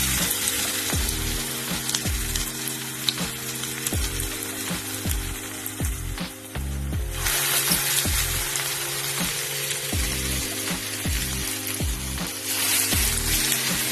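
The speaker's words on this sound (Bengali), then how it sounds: "ভালো করে গরম হয়ে গেছে, এবার আমি বড়াগুলো এক এক করে ছেড়ে দেবো" Spring onion pakoras, dropped in one at a time, fry in hot oil with a loud, continuous crackling sizzle and rhythmic bursts as each fritter goes in, close and without voices.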